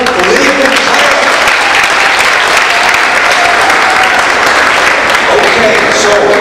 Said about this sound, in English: How about a round of applause for Liam and Clara?